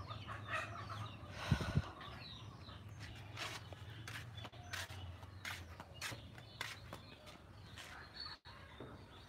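Egg-laying hens clucking in a village yard, a steady close chorus of clucks and calls with a low background hum and no talking.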